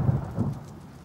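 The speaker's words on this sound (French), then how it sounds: "On peut toujours essayer de l'ignorer, cette pluie." Heavy rain in a French children's cartoon pours steadily in a dense, rumbling wash, with low thunder-like rumble underneath; no voices.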